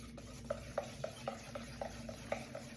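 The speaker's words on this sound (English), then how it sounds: "So what I'm going to do now is stir it." Sourdough starter mixed with salt being stirred in a bowl, a quiet, close run of about nine evenly spaced wet scrapes and taps, steady and rhythmic, with no speech.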